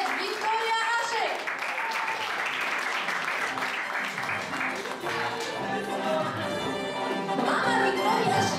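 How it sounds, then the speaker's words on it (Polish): Audience applause at a gala, loud, sustained clapping with a voice speaking over it throughout. "Zapraszamy, olbrzymie oklaski"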